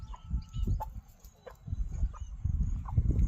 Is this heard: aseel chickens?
yes